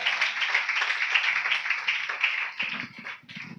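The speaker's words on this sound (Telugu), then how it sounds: "చప్పట్లు కొడదామా?" A congregation at a Sunday church service claps together in a dense, sustained burst of hand claps that fades toward the end, leaving a few scattered claps and a murmur of voices.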